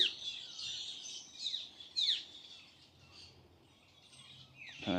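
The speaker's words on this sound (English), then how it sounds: "Show all those birds" Birds around a nest high in trees outdoors give a busy chorus of thin chirps and quick descending calls at moderate distance, layered over a soft insect hum, with no talking.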